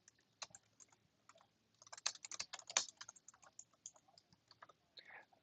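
Bursts of fast typing on a computer keyboard, crisp close clicks in irregular clusters that build to a dense flurry, with quiet gaps and faint room tone between.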